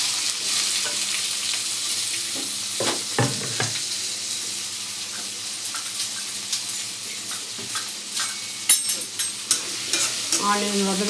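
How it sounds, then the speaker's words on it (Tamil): Chopped onions frying in hot oil for a spicy cucumber chicken fry, with a steady close sizzle broken by frequent spoon scrapes and clinks against the pan, and no talking. "சூடு எண்ணெய் ஆனியன் போட்டுக்கலாங்க."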